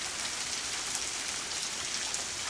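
A constant, full downpour hisses evenly up close, with occasional distinct drop impacts standing out from the dense wash of rain.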